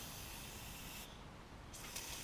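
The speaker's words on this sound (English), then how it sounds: "And what I do is I just spray some lubricant in here." Lubricant sprayed into a Snapper tiller's 5 hp Briggs engine with a stuck valve: a soft, steady aerosol hiss running throughout, fairly faint and close, with a brief change in tone partway through.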